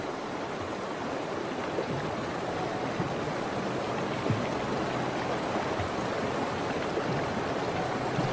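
Cold, fast-flowing river water rushes steadily and close by in the wild, where herds with young calves are crossing. It makes an even, unbroken roar with no voices.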